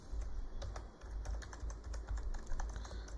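Quick computer keyboard typing while writing programming code, a steady patter of close keystrokes over a low background hum, no voices.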